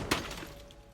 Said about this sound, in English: The bearded man heard glass break